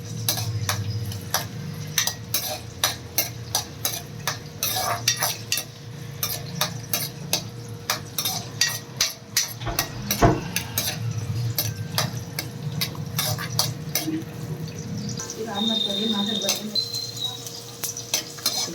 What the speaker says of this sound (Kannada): ಎಣ್ಣೆ ಕಾದಿದೆ. ಈಗ ನಾನೇನು ತೊಗೊಂಡಿದ್ದೀನಿ ಶುಂಠಿ, ಬೆಳ್ಳುಳ್ಳಿ ಸ್ವಲ್ಪ ಫ್ರೈ ಮಾಡ್ಕೊತೀನಿ.